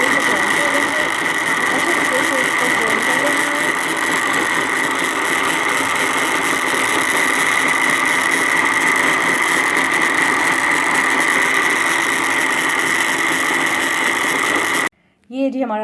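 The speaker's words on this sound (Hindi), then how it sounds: "अब हम इसको अच्छे तरीके से ग्राइंड करेंगे।" Blender grinding dates with full cream milk into nut milk: a loud, steady motor whir runs unbroken for about fifteen seconds, then cuts off abruptly near the end.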